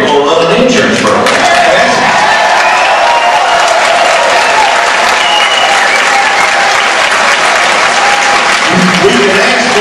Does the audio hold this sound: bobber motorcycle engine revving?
no